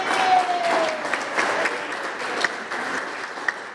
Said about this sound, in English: Give him a round of applause for the great work.